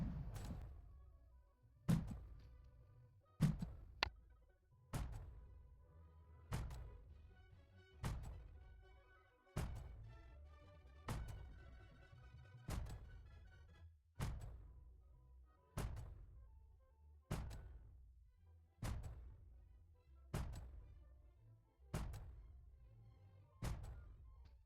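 Cannon shots in an airship battle video game strike enemy airship engines: a regular series of about fifteen heavy, booming thuds, each decaying before the next, with no voices.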